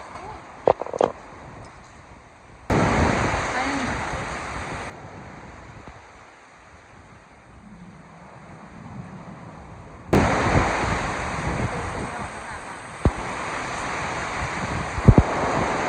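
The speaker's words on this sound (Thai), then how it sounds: "ทั้งฝนทั้งลมเนาะตอนนี้นะ" Strong gusts of wind and heavy rain roar in loud bursts, easing off in between, with occasional knocks and a faint voice in the lulls.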